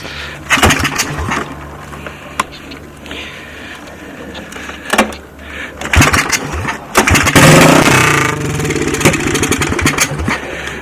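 A 1984 Honda ATC200X three-wheeler engine sputters and revs on choke, running rich, with uneven bursts of loud, close revving between choppy idle stretches.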